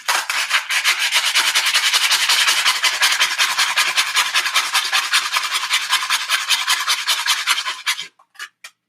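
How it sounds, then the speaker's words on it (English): Sandpaper wrapped around a wooden wand rasps in fast, steady back-and-forth strokes for about eight seconds, close and loud, then stops, followed by a few brief scrapes. "You literally take the sandpaper and wrap it around the wand portion."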